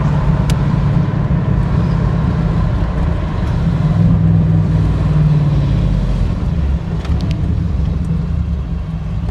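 A 1991 Camaro Z28 with a five-speed manual and G92 performance package rumbles steadily from inside the cabin while driving, its deep exhaust drone loud and continuous with no talk over it.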